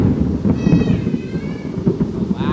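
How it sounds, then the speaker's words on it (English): Thunder rumbles through a Florida storm with rain, a deep continuous roll filling the whole moment, loud and close with no voices over it. "Wow, that's all thunder."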